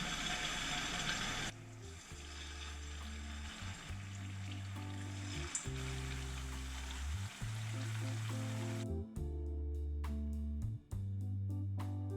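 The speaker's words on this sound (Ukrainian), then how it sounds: "трішки вершкового масла і починаю обсмажувати котлетки" Perch fish cutlets sizzle in butter with bay leaves and black peppercorns, a crackling frying hiss that fills the pan, later joined by steady rhythmic taps and tonal clinks as the cooking continues, with no talking.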